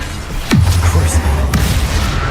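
A Crucio curse cast in the Hogwarts Legacy video game lands as two heavy, booming magical impacts, the first swelling into a low rumbling roar and the second, half a second later, a sharper crack, both loud and close.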